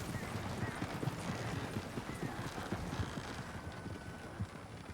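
Horse hooves clip-clop at a steady walking rhythm in a roleplay video game, with faint wind and low background noise behind the close, even footfalls.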